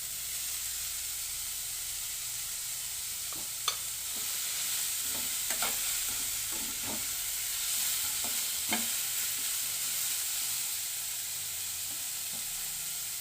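Carrots stir-fried in a pan for kodo millet noodles, with a soft steady sizzle and scattered scraping stirs, close and quiet, no voices.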